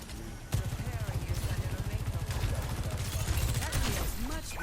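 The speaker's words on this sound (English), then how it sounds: "Shooting the vortex to the right, it's going to force them to the left." Sojourn's rapid gunfire and vortex shot in Overwatch 2, a dense rhythmic burst of close shots running steadily for several seconds under game sounds, with a voice talking over it.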